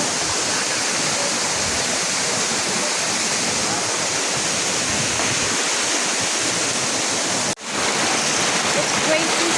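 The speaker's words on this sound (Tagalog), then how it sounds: "It's nice to be here at Mandaya Falls." Mandaya Falls at Mandayao Eco-adventure Park, a continuous heavy rush of cascading water, loud and near, holding steady throughout with a brief dropout near the end.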